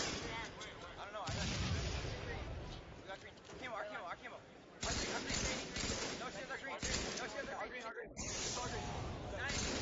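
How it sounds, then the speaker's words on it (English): Grenade blasts and rapid gunfire from a competitive Halo match, loud and continuous with bursts throughout, while a commentator talks over the action. "Pistola, perfect nade, takes down Neighbor, dodging a grenade from Legit, but T2 was right there to take him down."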